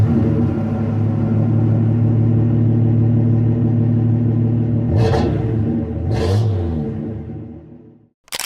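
A Mopar slant-six engine, a long-lived 1950s-design six-cylinder used in cars and trucks, idles with a steady low rumble, then revs sharply twice before fading out and cutting off.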